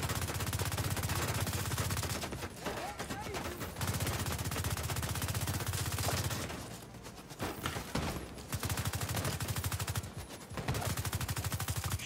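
Sustained automatic gunfire from a shootout in The Division 2, loud and rapid, with a few brief pauses in the firing.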